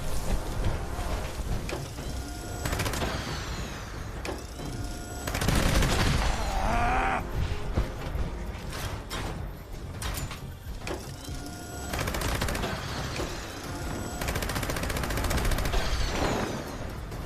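Gunfire in Fallout 76 aimed at a flying creature's wings, sustained rapid shots with mechanical clatter running almost continuously, loud and dense, with brief lulls between bursts.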